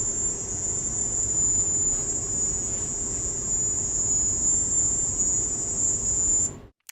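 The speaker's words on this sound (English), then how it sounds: "Kind of like auto-tuned crickets" A piercing, steady high-pitched electronic chirp drones continuously like shrill crickets over a low hum, then cuts off abruptly near the end.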